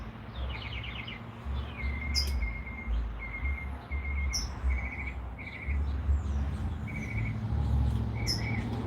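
A bird singing outdoors at night, repeated short trilled phrases at a steady pace, fairly distant, over a constant low background rumble.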